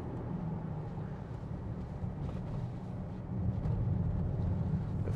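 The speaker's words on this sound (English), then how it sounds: "Lovely engine." Inside a 2016 Infiniti QX70 3.0d V6 diesel with automatic 4WD on the move, the engine gives a quiet, low, steady drone mixed with road rumble, growing slightly louder near the end.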